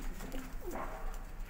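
High-flying pigeons in Faisalabad give soft, brief coos, faint against a low background hum.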